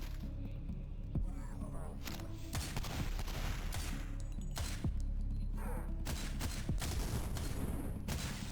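Shotgun blasts in the video game Cultic, a rapid string of loud, punchy shots at irregular intervals over a constant background din, with no voices.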